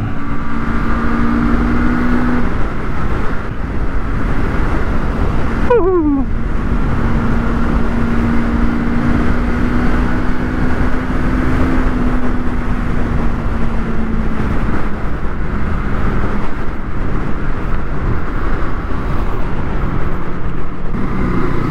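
A 2024 Modenas Eliminator 500 motorcycle rolls through slow traffic jam conditions at low RPM, its steady engine drone constant and loud, with rushing wind noise and a brief passing sweep midway, no talk heard.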